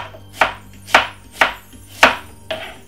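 A knife chops spring onion on a cutting board with five sharp, evenly spaced thuds, close and distinct, with brief pauses between each cut and no talking.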